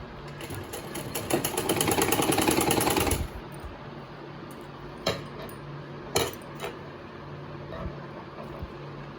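A sewing machine stitching a prince-cut blouse runs in a fast, loud mechanical whir for about three seconds, then stops, leaving a few faint clicks and bumps of fabric handling.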